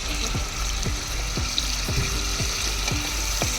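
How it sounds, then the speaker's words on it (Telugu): Salted prawns sizzle steadily in hot oil, and a ladle stirs and scrapes them in an even rhythm of about two strokes per second, loud and near, with no voices. "ఇవి కొంచెం ఫ్రై చేసుకుందాం"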